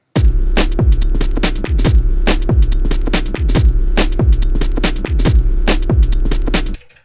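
A programmed beat on an Elektron Octatrack sampler: punchy kick drums hit in a steady loop with crisp hi-hat and snare hits on top, loud and continuous, then stopping abruptly near the end.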